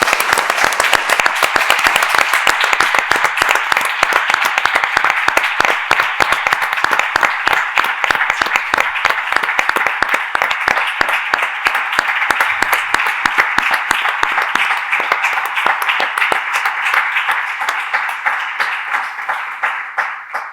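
An audience in a conference hall at a national patients' forum applauds, with dense, sustained clapping close and loud at first and slowly thinning and fading toward the end.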